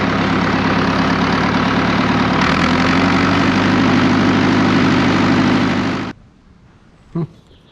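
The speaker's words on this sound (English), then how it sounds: "I love getting to play with this tractor." A Massey Ferguson 50 tractor engine idles steadily with a loud, constant low rumble, then cuts off abruptly, leaving near quiet with one brief knock.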